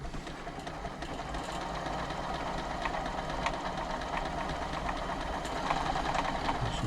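A freshly oiled Janome Memorycraft 3000 sewing machine runs continuously at an even speed, a close, steady mechanical whir with light rhythmic ticking.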